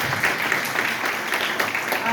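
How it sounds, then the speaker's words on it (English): An audience at an event gives a round of applause, a continuous wash of many hands clapping at steady strength through the whole moment, with a voice carried under it. "A big round of applause one more time for these folks"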